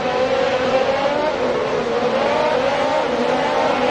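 Formula 1 race cars in the F1 2022 video game at the Barcelona circuit, a sustained high-pitched engine whine holding near and loud for several seconds with steady pitch and no talk.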